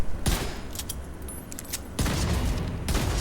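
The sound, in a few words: gunfire in video game Division 2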